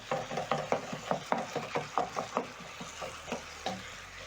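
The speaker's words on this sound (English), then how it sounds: "stir in the spices. Break down the meat further" A spoon rhythmically scrapes and stirs spiced minced beef, with salt added, frying in a pan for samosa filling, giving steady close strokes over a soft sizzle.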